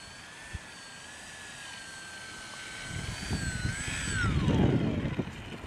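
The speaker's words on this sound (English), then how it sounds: "Preparing to land." A Firefly 2 autogyro coming in to land, its rotor and engine drone steady and faint at first, then growing louder and rougher with a falling whine as it touches down.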